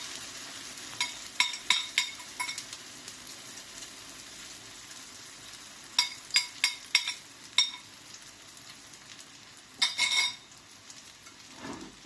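A tortilla frying in a small amount of oil in a pan gives a soft, steady sizzle, punctuated by clusters of sharp utensil clicks and scrapes against the pan.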